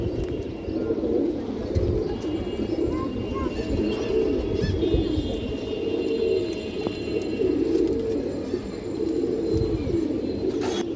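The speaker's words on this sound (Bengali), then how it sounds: "বড় সাইজের একটা কৌতর" Large pigeons, including a big hen, coo continuously in close range, a dense low throaty murmur of many overlapping calls with scattered rustling and small knocks.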